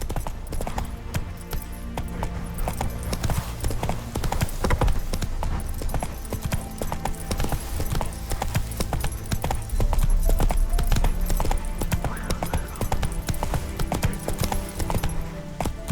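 Horse hooves gallop in The Witcher 3, a loud, steady clip-clop rhythm that runs continuously over the game's background sound.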